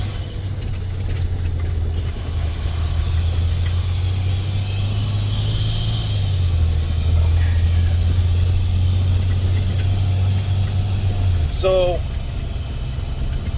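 A poorly running spare truck drones with a steady low engine rumble while driving, holding an even hum that shifts pitch slightly midway, with someone talking over it and a brief squeak near the end.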